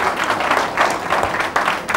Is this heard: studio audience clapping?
yes